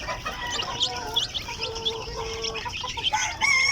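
Polish chickens cluck in a busy, close chorus of overlapping clucks and calls with occasional crow-like notes, moderately loud and without speech.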